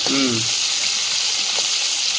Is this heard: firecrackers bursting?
no